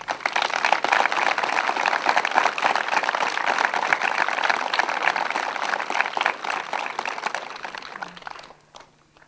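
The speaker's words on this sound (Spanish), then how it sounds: "El aplauso se lo merecen todos ustedes." Applause from an audience at a school award ceremony recognizing a telesecundaria, a dense, sustained wash of clapping lasting most of the clip before fading out near the end.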